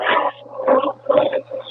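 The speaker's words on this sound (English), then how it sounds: "You hear the howl in the background?" A dog howls and whimpers in long, wavering cries heard over a phone call, rising and falling several times against a steady low hum, fairly loud and close.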